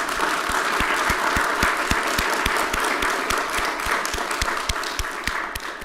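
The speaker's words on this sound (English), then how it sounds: "Let's give them all a round of applause." An audience at a county address gives a round of applause, dense sustained clapping from a crowded hall that stays even and slowly tapers.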